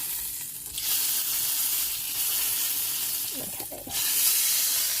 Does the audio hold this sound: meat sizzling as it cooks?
yes